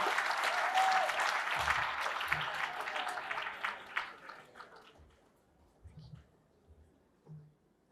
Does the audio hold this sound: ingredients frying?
no